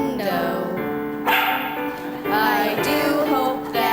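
At a Lions Club variety show, a performer imitates a dog's barks and yips within a sung melody, the bark-like sounds rising in short, loud bursts over musical accompaniment.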